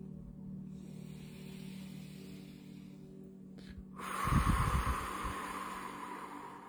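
A slow, deep breath drawn in and let out in a quiet room, a soft airy rush that swells partway through and trails off, with no talking.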